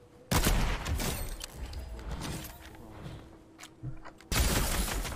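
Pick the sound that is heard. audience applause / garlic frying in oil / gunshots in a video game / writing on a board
gunshots in a video game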